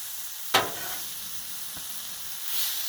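Chicken fried rice with corn sizzling on a flat griddle, a constant close hiss with one sharp scrape of a spatula early on and a fainter tap later, no voices.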